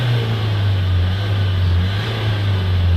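Vauxhall Vivaro van engine held steady at about 2000 RPM with a clogged particle filter, a loud, continuous droning hum at close range with no change in pitch and no talking.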